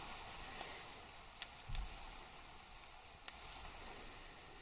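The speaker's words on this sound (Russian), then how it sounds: "Вот наши кабачки поджариваются." Zucchini slices frying in a pan with quail eggs set in the centres, giving a steady, faint, even sizzle with a few soft crackles and one brief low bump partway through.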